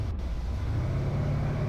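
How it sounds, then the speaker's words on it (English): Steady low engine drone from a car driven in the racing game BeamNG.Drive on the Top Gear test track, a constant loud rumble with no talk, apart from one brief sharp click near the start. "So the engine is a little bit loud."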